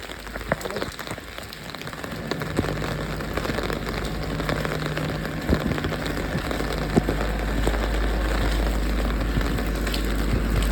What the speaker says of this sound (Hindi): बाहर बहुत ज़्यादा तेज़ बारिश हो रही है